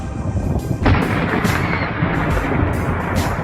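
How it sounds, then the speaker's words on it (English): Loud thunder cracks and rolls right after a lightning strike in town, a sharp burst followed by sustained booming rumble with repeated surges, heard alone with no talk. "comes thunder. Did you hear that shriek? That's how loud it was all over town."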